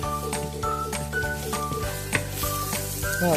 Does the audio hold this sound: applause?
no